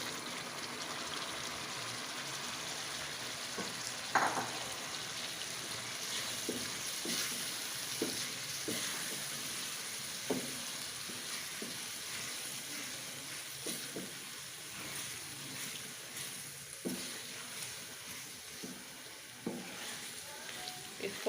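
Boiled, softened chana dal is stirred into ghee and masala in a pan, giving a steady sizzling fry with scattered stirring scrapes and light clinks throughout, fairly close and without talk.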